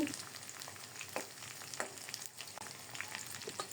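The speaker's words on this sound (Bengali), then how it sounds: "এই যে কড়াইতে তেল দিয়ে পেঁয়াজটা ভেজে নিচ্ছি।" Onion fries in oil in a wok, a steady soft sizzle with occasional stirring scrapes, moderately quiet and with no talking.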